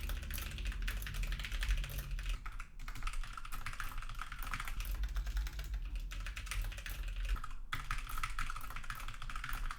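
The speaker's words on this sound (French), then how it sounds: "un test de frappe au clavier" Steady typing on a computer keyboard close to a USB microphone, a continuous rapid patter of key clicks with brief pauses, fairly quiet and alone without voices.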